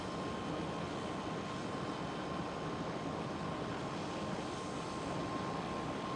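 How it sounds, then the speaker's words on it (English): An EasyJet Airbus A320 airliner at Schiphol Amsterdam gives a steady, dense jet roar with a distinct thin whine, loud and unbroken throughout. "And EasyJet A320. Going towards the UK."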